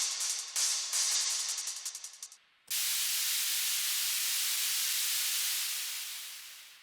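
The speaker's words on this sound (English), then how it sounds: "White noise." Static white noise, first pulsing in rapid bursts that fade away, then a steady loud hiss that holds and slowly tapers at the end.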